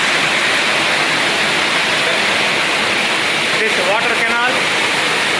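A steady, dense roar of rushing water at Madhavaram waterfall near Aragonda, falling between huge stones, fills the scene, loud and unbroken, with a faint voice briefly audible beneath it.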